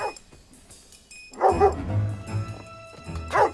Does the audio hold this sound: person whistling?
no